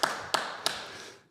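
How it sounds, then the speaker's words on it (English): Three sharp, close claps ring out at an even spacing in a quiet podcast room to greet a guest, each followed by a short ring of room sound before the space falls silent. "let's clap it up for him"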